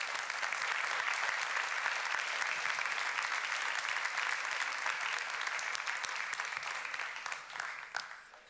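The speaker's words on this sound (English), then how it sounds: "Give them an applause." An audience at an awards ceremony for the Megalizzi-Niedzielski prize applauds in a dense, sustained wash of clapping that holds steady and then thins out at the end.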